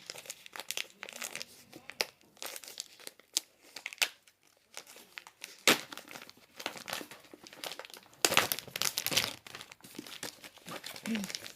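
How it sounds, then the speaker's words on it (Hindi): Plastic packaging around a book is crinkled and torn open up close, with irregular bursts of crackling and sharp tearing separated by brief quiet moments. "सावधानी से खोलना पड़ेगा नहीं तो पैकेट काटने के चक्कर में पेजेस ही नहीं काट डालूं"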